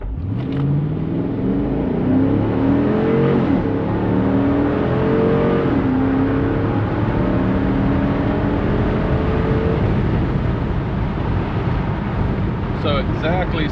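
A 2025 Dodge Durango R/T with its stock intake accelerates hard from inside the cabin with the windows down, the engine note climbing steadily through the gears under loud wind rush for over ten seconds.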